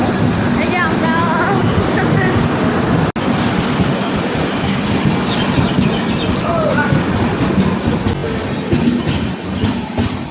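A train passes close by at a station, a loud continuous rumble and rushing roar with faint clattering rail rhythm filling the whole stretch.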